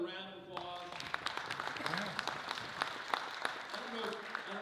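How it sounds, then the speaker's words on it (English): A room of people at a Rotary club gathering gives a round of applause, scattered claps rising under a voice at the start and continuing at a moderate level. "Let's give him another round of applause."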